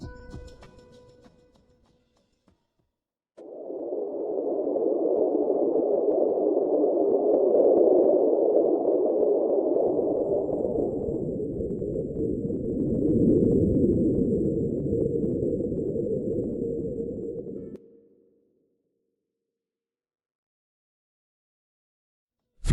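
A supposed underwater signal from flight MH370, captured by a hydrophone: a steady, droning tonal hum holds for about fourteen seconds, shifts lower partway through, then cuts off, leaving near silence.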